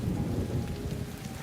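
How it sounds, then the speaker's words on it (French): Heavy rain during a summer thunderstorm, a continuous low rumbling roar of downpour and distant thunder that stays steady and moderately loud, with no voices. "Tu entends ce bruit? Oui, c'est la pluie."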